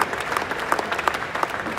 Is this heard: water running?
no